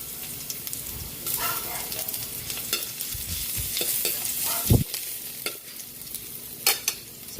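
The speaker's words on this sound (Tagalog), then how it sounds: "Magigisa na tayo para sa ating sweet and sour." Ginger and garlic sauté in a pan for sweet and sour fish, giving a soft steady sizzle with scraping stirs and a couple of sharp utensil knocks, close and fairly quiet with no talking.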